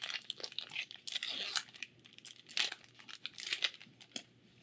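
Magic: The Gathering Streets of New Capenna booster pack torn open, with close, crisp crinkling and tearing of foil wrapper in irregular bursts, fairly quiet.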